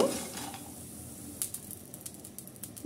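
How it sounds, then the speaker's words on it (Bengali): Pumpkin lentil dumplings (bori) in hot oil give a soft sizzle, while a spatula scrapes and clicks against the pan in a few sharp, close taps. "বড়িগুলো ভাজা হয়ে গেছে, এখন আমি বড়িগুলোকে তুলে নেব।"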